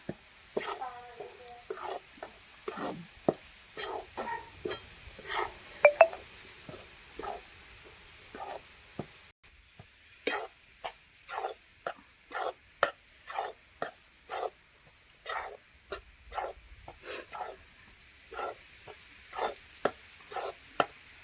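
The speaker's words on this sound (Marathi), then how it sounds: "बेसनचं पीठ आता भाजायचं छान हलक्या हलक्या जाळावर भाजून घ्यायचं" Gram flour (besan) roasted in ghee in a pan over low heat, stirred with a spoon in a long run of short, quiet scraping strokes at an uneven rhythm, with a brief pause partway through.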